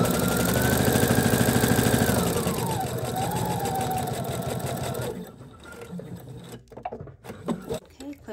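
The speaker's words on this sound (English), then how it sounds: "now we're going to come down here and sew across the bottom" A sewing machine hums and stitches steadily up close for about five seconds across the box bottom of a lined drawstring bag, then stops, leaving scattered handling clicks and rustles.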